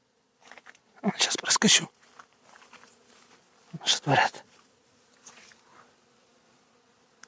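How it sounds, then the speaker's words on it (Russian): Honey bees in large numbers return to apiary hives on a sunny day, laden with nectar and pollen, making a steady buzzing hum while someone speaks over it in bursts. "Стоит гул. Вон сколько пчелы возвращается."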